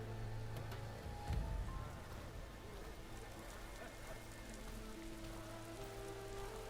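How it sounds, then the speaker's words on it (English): Steady rain patters in the open world of Horizon Forbidden West, a soft continuous hiss with a low hum beneath and a brief thump early on. "Hey, it's raining."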